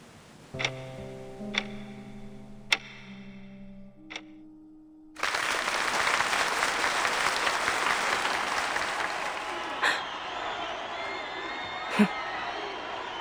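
Crowd applause swells suddenly in a story scene of the game Reverse: 1999, a dense, loud wash of clapping and cheering that follows several sparse ticking chimes and musical tones.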